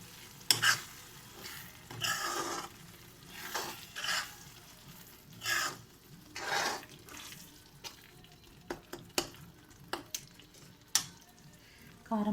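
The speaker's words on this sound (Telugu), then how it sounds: "ఇప్పుడు మనం కారం వేసుకుందాము" Ground chili powder stirred into raw masala paste frying in a pan for egg curry, with soft sizzling under repeated scraping strokes of a spoon and a few sharp clinks against the pan.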